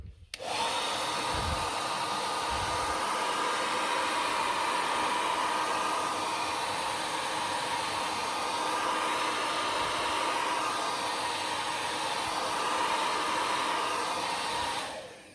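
A hot air heater blows steadily on a Ralliart carbon decal being fitted to a Mitsubishi Evo X, a loud continuous rushing hiss that runs unbroken and close for the whole stretch with no talk.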